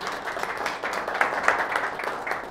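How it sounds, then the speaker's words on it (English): An audience at a marketing talk gives a round of applause, a steady wash of many hands clapping at moderate volume throughout. "So everybody give Tom a round of applause"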